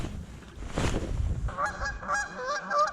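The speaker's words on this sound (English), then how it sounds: "Dang geese." Canada geese honking at Loch Raven, a Maryland lake, on a fishing outing; repeated nasal honks overlap in a noisy flock during the second half, with wind and water noise before them.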